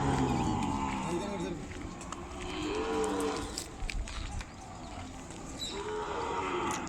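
Calves at the weekly Kodada cattle market in Telangana moo repeatedly, several drawn-out calls rising over a busy background of crowd noise and voices at the market.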